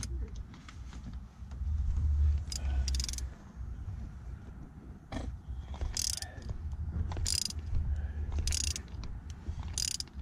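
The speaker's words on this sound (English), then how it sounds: "Now get the ratchet." A hand ratchet clicks in short bursts while tightening a shift bushing on a Ford/Mazda M5OD transmission in a garage, the sharp repeated clicks coming in irregular spurts over a low background hum.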